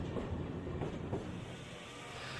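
Steam locomotive 4449, the Daylight, running on rails, heard as a constant rumbling train noise with faint rhythmic clicking from the wheels, steady and moderately loud throughout.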